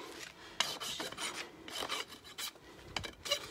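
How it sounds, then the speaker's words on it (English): A rasp filing a mini donkey's hind hoof, a series of close rough scraping strokes in an uneven rhythm, each a short gritty rasp with brief pauses between, and no talking. "Do I know how to rasp?"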